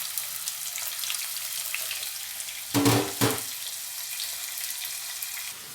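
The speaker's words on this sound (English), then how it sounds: "I'm going to add my onions and fry it for 2 minutes" Onions fry in a hot pan with a steady, close sizzle. Two louder sputtering bursts stand out midway, then the even crackle resumes.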